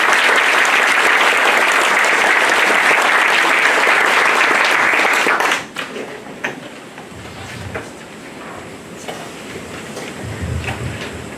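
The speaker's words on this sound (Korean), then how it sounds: "큰 박수 부탁드립니다." Loud, dense audience applause at a high school reading concert fills the first five and a half seconds, then drops off abruptly to scattered low room noise and faint shuffling.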